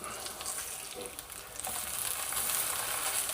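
Thin, flat burger patties sizzle steadily in a hot frying pan just after being flipped, a continuous bright crackle that swells slightly louder toward the end.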